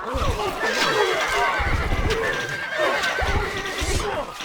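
Horses neighing and whinnying amid a battle in Stronghold Crusader, several whinnies overlapping with hoof clatter and background clamor, loud and close, with a narrating voice over it.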